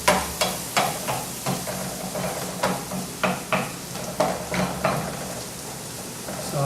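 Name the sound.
sauteing ingredients for acorn squash soup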